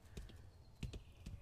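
Horse hooves clip-clop in a steady walking rhythm, a few close, distinct strikes on firm ground with a faint background hum.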